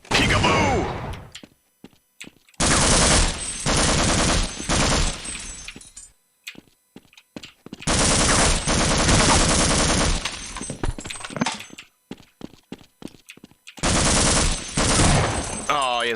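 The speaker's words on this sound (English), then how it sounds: "Oh, he has a shotgun." Heavy gunfire in a video game, with a shotgun firing: loud, close blasts packed into several long bursts, each separated by short quiet gaps with a few isolated shots.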